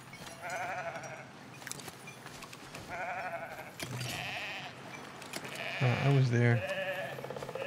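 Sheep in the Foundation village-building game give repeated bleats, several short wavering calls spaced across the stretch over a steady background, with a person briefly talking.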